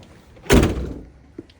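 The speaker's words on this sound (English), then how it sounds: "I'll just close these back doors here so I don't" The rear doors of an Autocruise Forte campervan shut with one solid, close thump, followed by a faint click a moment later.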